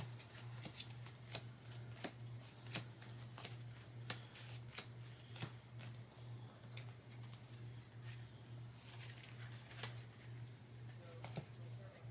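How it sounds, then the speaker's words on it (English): Yu-Gi-Oh trading cards in slick new sleeves being shuffled at a live tabletop duel, a steady run of quick riffling snaps repeating over a low background hum, with faint speech nearby. "Get a shuffle, which is probably gonna mess me up by doing this."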